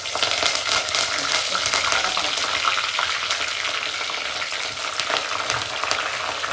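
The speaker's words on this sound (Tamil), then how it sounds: "டக்கு டக்கு டக்குன்னு அப்படியே எண்ணெயில் பொரியிறாங்க" Small shallots and curry leaves fry in hot oil in a clay pot for a fish curry, producing a dense, continuous crackling sizzle with occasional sharp pops and no voices.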